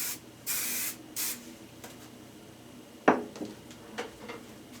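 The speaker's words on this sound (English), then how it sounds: "Now I'm going to be spraying some of my Chi Hairspray really lightly." Two brief, light hisses of Chi hairspray misted onto hair, followed by clinks and small handling noises of styling tools nearby.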